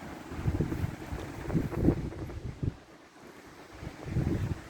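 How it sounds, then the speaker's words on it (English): Wind gusting outdoors at a campground beside gator-filled water with cypress trees, rumbling microphone buffeting that swells, dips briefly, then rises again. "It is so windy out here."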